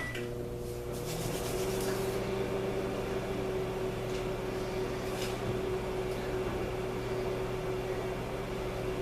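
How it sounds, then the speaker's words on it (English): A microwave oven hums steadily with a constant electrical drone and faint fan noise, running without a break the whole time. "So I'm going to put it in the microwave on 15"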